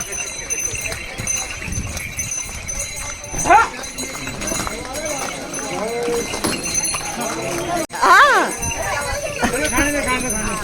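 Horse hooves clip-clop steadily along a crowded mountain path on the trek to Yamunotri, while a crowd of people talks and calls out all around.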